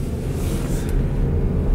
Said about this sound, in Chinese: 我故意把音乐关掉了，这样大家可以听听引擎的声